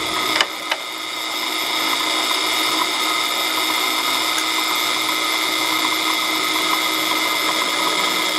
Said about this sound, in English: we're going to drill our little hole in this piece here